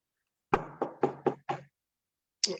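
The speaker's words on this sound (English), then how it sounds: "A knock is heard at the door." Five firm knocks land on a door in a quick, even sequence, close and distinct against silence, followed after a pause by one more single knock.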